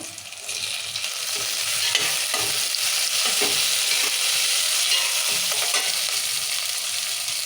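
Onions and tomatoes fry in a pan of oil, a steady close sizzle with faint stirring scrapes running throughout, no voices.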